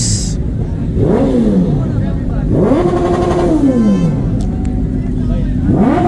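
A loud superbike engine revs up and down three times, each rise and fall sweeping in pitch, over a noisy crowd at a Yuva Dasara superbike show in Madikeri.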